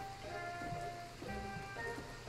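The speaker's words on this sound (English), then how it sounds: "Rain in Harina? Now that's something you don't see every day." Rain falls steadily in the Bravely Second video game, a soft continuous patter blended with sustained game music tones.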